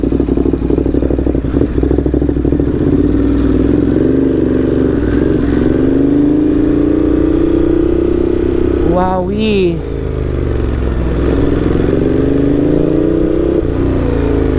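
A big bike's engine runs steadily during a test ride, a continuous close rumble with slight revving swells, while a rider talks over it and gives a short exclamation.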